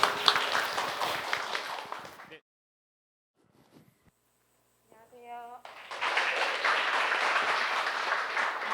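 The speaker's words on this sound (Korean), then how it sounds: "수고하신 B 유닛 분들에게 모두 다 큰 박수 부탁드립니다" Audience applause at a public project presentation in Jeju, a dense wash of clapping that stops abruptly, leaves a short near-silent gap with faint sounds, then swells back in steadily.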